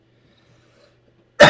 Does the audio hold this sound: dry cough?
yes